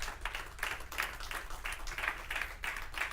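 A church congregation claps hands in a steady, rhythmic beat, roughly two to three claps per second, with a fairly even, moderately loud sound throughout.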